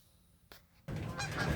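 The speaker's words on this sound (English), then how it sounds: "Here are the geese flying over." A flock of geese honking as they fly over, a sudden loud burst of overlapping calls rising after a quiet moment outdoors.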